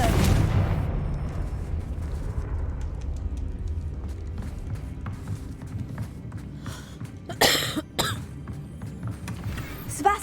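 Confringo blasting spell from Hogwarts Legacy bursting with a loud, rumbling explosion at the start that decays into a long debris-filled tail, followed by sharper crackling impacts around the middle.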